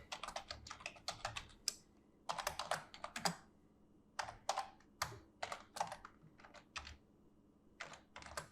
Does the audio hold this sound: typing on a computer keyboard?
yes